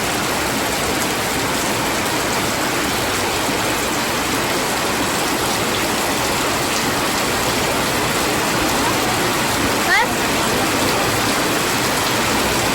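Heavy rain pours down steadily in a village, a continuous, even wash of falling water with no voices or breaks.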